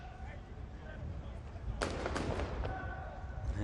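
Short-range sniper rifle shots at targets during a SWAT team competition, a few sharp cracks clustered in quick succession over steady outdoor background noise, with a voice heard in the scene.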